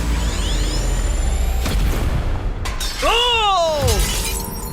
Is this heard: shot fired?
yes